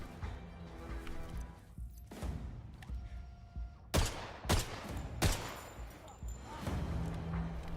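Gunshots fired at lights in the video game 007 First Light, sounding as a few sharp loud bangs in a quick cluster with some mixed game noise and background sound between them.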